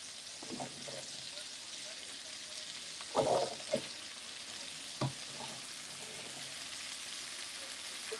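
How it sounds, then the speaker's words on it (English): Potatoes and celery drop into a pot of meatballs for soup, giving a steady broadband sizzle with a few sharp plops and clatters near the middle, close by. "we are adding the potatoes and the celery"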